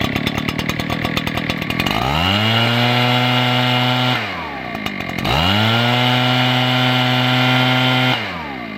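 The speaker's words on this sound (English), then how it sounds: "The sound of that backpack blower sounds a lot like this professional chainsaw right here." An Echo CS620PW professional chainsaw idles with a sputtering rattle, then revs up to a loud steady whine twice, dropping back to idle between bursts.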